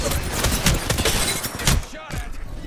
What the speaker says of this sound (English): Broken enemy shield.